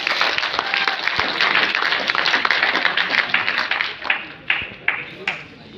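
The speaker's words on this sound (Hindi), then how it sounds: "किरोड़ीमल कॉलेज के लिए जोरदार तालियां हो जाए।" An audience claps for Kirori Mal College at a prize presentation during a parliamentary debate final at Zakir Husain Delhi College. The clapping is dense and loud throughout, then thins into scattered claps near the end.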